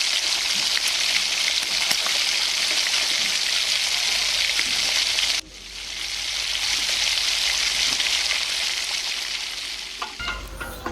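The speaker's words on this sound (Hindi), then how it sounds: "इसको अच्छी तरह से ब्राउन होने तक हम इसको फ्राई करते हैं।" Chopped onions fry in hot oil with a dense, rain-like sizzle that dips abruptly midway and swells back, ending in a few clattering stirring knocks, all close and without speech.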